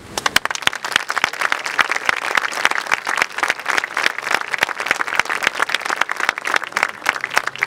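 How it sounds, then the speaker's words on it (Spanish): Audience applause at a formal address, a brisk, dense run of hand claps with sharp individual slaps standing out, continuing steadily throughout. "Con este aplauso agradecemos el pronunciamiento del maestro Óscar Gómez"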